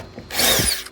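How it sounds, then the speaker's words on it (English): A cordless power drill runs briefly while aligning two rivet holes on a ute canopy, a near, loud whirring burst of just under a second that starts abruptly after a quieter moment. "You can use your drill again just to align those 2 holes."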